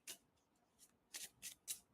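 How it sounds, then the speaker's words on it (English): Tarot cards are shuffled by hand in a quiet room, with a soft riffle followed by a few short, crisp bursts of card rubbing, close and alone. "I'll get shuffled up here."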